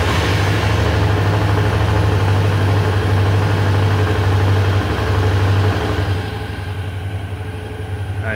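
A Suzuki V-Strom 650 XT motorcycle engine idles just after an oil change with Motul 5100 10W40, giving a loud, steady low hum that drops to a quieter, thinner sound for the last couple of seconds.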